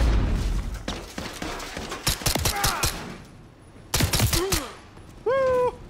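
Gunfire in Modern Warfare III: scattered close shots crack out in sharp clusters amid game ambience, with a brief loud burst near the middle and a sustained tone at the end.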